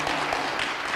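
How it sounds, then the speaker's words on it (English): An audience applauds at an International Archives Day event, a dense, steady wash of clapping that stays even and fairly loud throughout the short burst. "Shall we give you another round of applause,"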